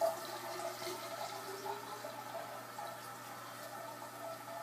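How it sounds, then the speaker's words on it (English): Toilet water pours into a Puritii water bottle, a continuous trickling fill with gurgling and splashing, faint and steady with no talking. "we're going to pour the toilet water into the Puritii water bottle"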